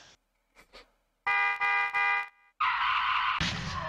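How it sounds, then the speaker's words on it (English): A car horn in the Pepsiman video game blares three quick honks in a row, with brief game sounds before and a different electronic tone after. "Honk, honk, honk."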